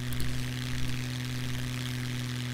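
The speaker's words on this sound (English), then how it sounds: "full blast your engine" A plane engine roaring at full throttle in the survival game Scum, a steady loud drone with strong low harmonic bands holding constant throughout, heard alone.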